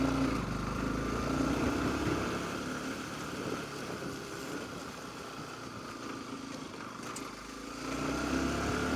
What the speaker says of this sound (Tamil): ஐயோ, வண்டி கஷ்டப்படுதுங்க நம்ம வண்டி ஏற.